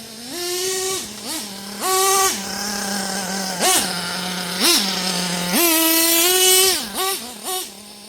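An old nitro engine in a Hotbodies Dirt Demon RC truck runs rich, buzzing loudly and raspily with repeated sharp throttle blips that climb and drop, alternating with a steady high idle whine throughout.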